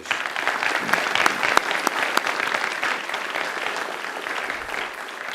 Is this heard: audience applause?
yes